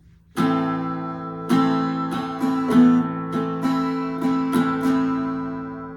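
An acoustic guitar strums a chord from a song, then keeps strumming with quick accents as a note is hammered on with the pointer finger, ringing clearly with no voices.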